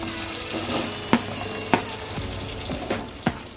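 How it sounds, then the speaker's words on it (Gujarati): Onions frying in hot oil with cumin give a close, steady sizzle broken by a few sharp clicks and taps of a spoon against the pan, with no talk. "જીરું ક્રેક થઈ જાય એટલે આપણે એની અંદર કાંદા નાખીશું."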